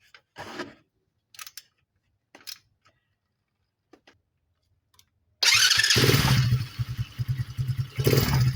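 Motorcycle engine started after a valve clearance adjustment: a few faint clicks and taps, then the engine catches abruptly and runs loudly close by with a rapid, even idle and slight revving.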